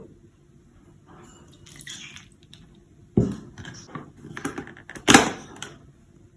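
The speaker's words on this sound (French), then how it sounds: "L'eau, on met tout doucement." Water poured slowly into a thick falafel sauce in a kitchen, a soft trickle and splash with a couple of louder pouring bursts, fairly quiet and close.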